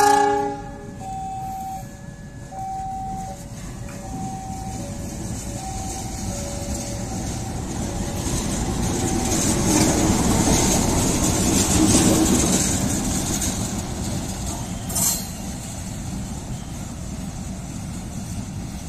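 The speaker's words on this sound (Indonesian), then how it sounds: "warga sekitar yang ingin menyimak lansiran dari lokomotif CC206 ini sangat meriah ya" A CC206 locomotive passes at Garut station with a horn sounding in repeated blasts, followed by a loud rumbling of the engine and the rolling clatter of the train cars, heard near and continuous.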